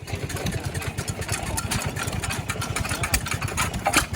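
An antique Sears Farmhand stationary engine runs steadily, a fast, even low chugging beat that carries on without a break, close by with a little outdoor background.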